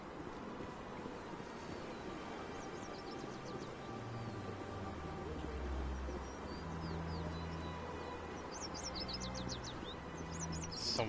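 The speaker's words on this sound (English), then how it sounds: "Some weird ass birds." Birds in the Mass Effect video game chirp faintly in quick, high twittering bursts over a steady ambient wash that resembles surf, with no one talking.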